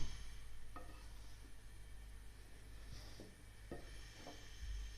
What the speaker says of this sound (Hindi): पहले घी के बगैर ही आटा भूनना है थोड़ी देर